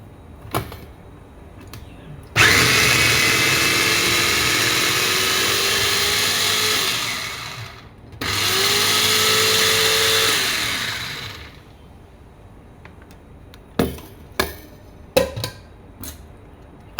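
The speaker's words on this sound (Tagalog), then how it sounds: "Blender natin siya guys." A blender mixing lemon juice for a chicken kebab marinade whirs loudly for several seconds, stops briefly, then runs again before cutting off, followed by a few sharp clicks and knocks.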